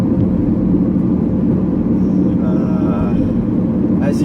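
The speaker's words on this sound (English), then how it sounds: "As you can clearly hear, there's no muffler on this car." Engine of a 1999 Chevy Camaro V6 with no muffler, a loud steady low rumbling drone held close throughout, with a faint voice briefly under it.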